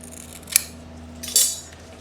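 A strap being cut to length for an ebike battery mount on a Swagtron EB 7, two crisp snips about a second apart over a low steady hum, close up.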